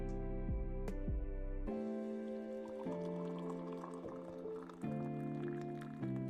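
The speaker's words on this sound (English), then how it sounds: "The pouring noises are taking me out." Liquid pours and fills with a rising, bubbly tone, broken into several short bursts of gurgling and dripping, fairly close and alone.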